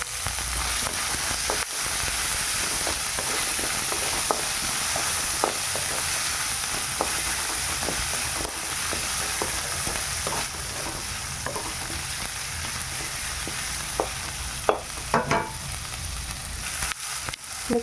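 Onions and tomatoes frying in an oily pan, a steady close hiss and sizzle with scattered pops and scraping clicks of a stirring spoon throughout, no talk.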